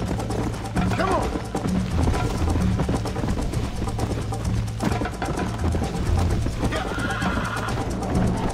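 A horse in the Red Dead Redemption game during a race, a brief neigh early on, then continuous pounding hoofbeats and game noise, with a voice over parts of it.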